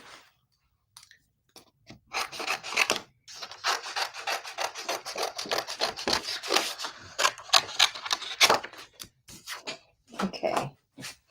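Scissors cut through scrapbook paper in quick rasping snips, a series of close crisp cuts with short pauses between, alone without talk.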